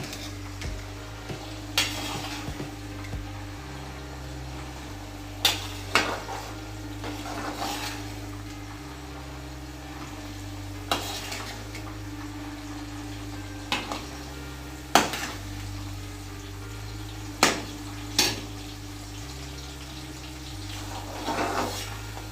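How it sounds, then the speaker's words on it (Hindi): Bitter gourd bhurji fries on high flame with a steady sizzle, while a spoon scrapes and clatters against the pan in repeated strokes every couple of seconds. "अब 1 मिनट से 2 मिनट और फ्राई कर लेते हैं। गैस देखिए हाई फ्लेम पर ही है।"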